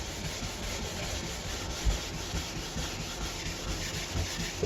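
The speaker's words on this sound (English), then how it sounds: "The soft polishing brush, and it's already looking nice and black and shiny." A soft polishing brush rubs over a freshly waxed and scraped ski base in a continuous, close, dense swishing scrub with no voices.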